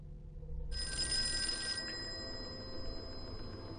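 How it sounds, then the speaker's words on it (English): Telephone bell ringing in the Call of Cthulhu video game, a single steady electric ring that starts after a short pause and fades into a faint hum, heard alone with no talk. "Let's answer that phone then."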